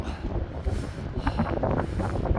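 Wind gusting across the microphone while cycling along a seaside road on a warm day, a steady close rumbling roar with no voices.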